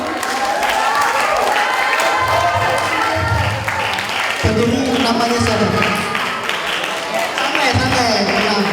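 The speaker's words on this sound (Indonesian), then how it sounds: "Tepuk tangan dulu." An audience at a live broadcast event in Sampang claps throughout, a steady crowd applause running under continuous talk and background voices.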